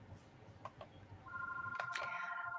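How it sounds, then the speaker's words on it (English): An office telephone rings in the background during a live studio interview, a faint electronic tone repeating a couple of times behind low room noise. "I don't know if you hear the phone ringing."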